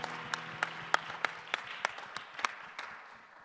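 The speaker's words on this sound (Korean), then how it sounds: "우리 박수로 서로의 삶을 응원하고 축복합시다." Scattered handclaps from a small group at a church youth service, distinct separate claps at an irregular pace, fading out after a few seconds.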